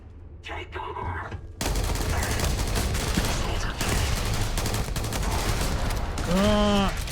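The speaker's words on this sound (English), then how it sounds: "I hear them shooting at me" Gunfire from enemies in the video game Starfield, played on very hard mode: rapid bursts and volleys crackle loudly and continuously, ending with a rising electronic whine.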